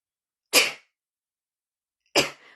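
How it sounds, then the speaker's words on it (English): Two sharp sneezes from a person, about a second and a half apart, each a loud abrupt burst close to the microphone in an otherwise quiet room. "I'm going to sneeze."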